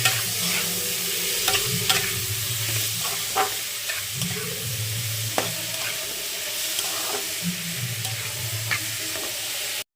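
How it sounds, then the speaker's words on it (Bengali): Chopped mushrooms fry and sizzle in a pan while being stirred, a steady close hiss broken by repeated scraping strokes throughout. "দিয়ে দিলাম কেটে রাখা মাশরুমগুলো। এবার নাড়াচাড়ার পালা।"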